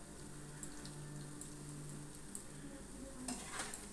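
Potatoes frying in a pan with a little turmeric for a Bengali cauliflower, potato and soya chunk dish, a steady soft sizzle with occasional stirring scrapes and a brief clink near the end, no talking.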